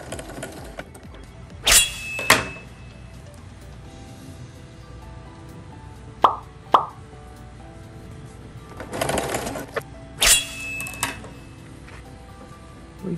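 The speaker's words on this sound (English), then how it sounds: "We're sewing our shoulder, sewing the seam across the shoulder." Household sewing machine stitching the shoulder seam of a towel robe, with several short bursts of rapid mechanical whirring separated by quiet pauses, close and fairly soft.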